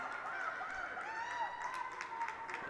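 Crowd at a high school basketball game between Waterbury Wilby and Watertown, a steady distant roar of cheering with scattered claps and whistles, faint and continuous without clear talk.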